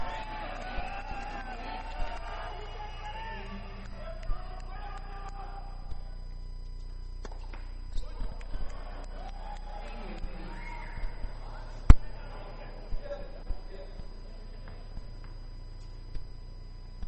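Crowd at a Davis Cup tennis tie in Tatabánya, Hungary, a broad murmur of many voices with shouts and whoops rising and falling, scattered sharp ball or racket pops, under a continuous talking voice.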